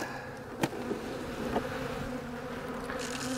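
Small, weak swarm of honey bees buzzing over hive frames with newspaper and wax-moth-damaged comb, a soft continuous hum with a few faint knocks, no talk.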